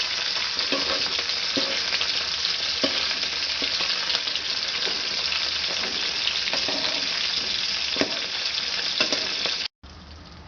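Dried mackerel frying in a pan over a low gas flame, a steady close sizzle with occasional stirring scrapes, cutting off briefly near the end.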